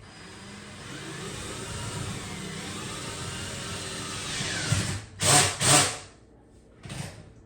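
A power driver with a Phillips bit drives a self-tapping anchor into drywall, heard as scraping grinding then several short, loud bursts of the driver near the end.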